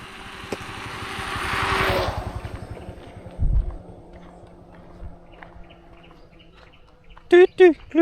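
Birds chirp outdoors under dark clouds, a few sharp, loud calls arriving near the end after a stretch of low engine rumble and quiet background.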